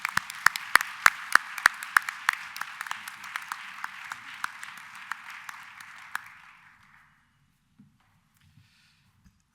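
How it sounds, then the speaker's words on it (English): Audience applause at an awards dinner: a dense round of clapping with sharp individual claps standing out, fading away after about six seconds into near silence with a few stray claps. "Give our fellows a round of applause."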